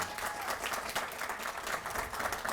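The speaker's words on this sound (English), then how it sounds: "One last round of applause for them." Audience applause at a ribbon-cutting ceremony for a learning center, a steady wash of many hands clapping that holds evenly throughout, moderately loud and close.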